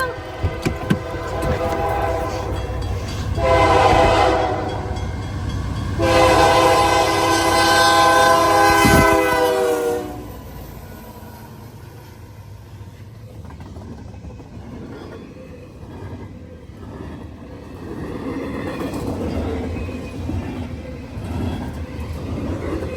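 Freight train passing a rail siding on a damp fall day, a loud near horn blasting twice over a rumbling engine, then fading to rolling wagons and track clatter with occasional voices in the background.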